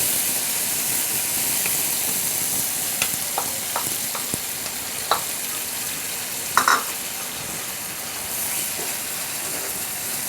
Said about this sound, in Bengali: এখন আমি মশলাটাকে ভালো করে একটু কষায় নিব।